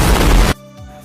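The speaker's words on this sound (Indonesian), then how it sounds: "ledakan besar pun terjadi" A big explosion effect in a dramatized manhua story: a loud, dense blast lasting about half a second, then cutting off abruptly into near silence with a faint low rumble trailing after.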